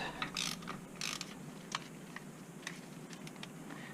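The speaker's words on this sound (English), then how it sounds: "we're going to go with our actual 5/8 plug wrench, so it can go down into the bottomless pit" A 5/8 spark plug wrench ratcheting on a 2005–2011 Hyundai Accent during a tune-up: quick bursts of clicking pawl ticks, close and faint, followed by sparser single clicks, with no speech.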